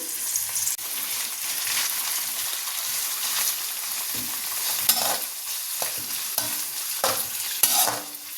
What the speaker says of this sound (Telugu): ఆయిల్ వేడెక్కిన ఆయిల్లో ఈ కాకరకాయలని డీప్ ఫ్రై చేద్దాం